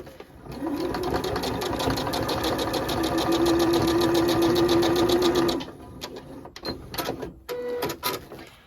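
A sewing machine quilts layered patchwork, running at a steady fast clatter for several seconds before stopping, followed by a few short bursts of stitching and light handling noises nearby.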